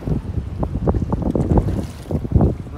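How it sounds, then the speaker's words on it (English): Gusty wind buffets the microphone in rough, uneven bursts of low rumble, loud and close, with no speech. "Man, it's so windy."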